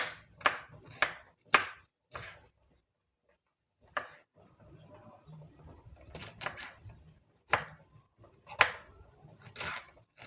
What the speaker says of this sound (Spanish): En el caso de los más grandes, vamos a picarlas. Hacemos cuadritos pequeños y los reservamos.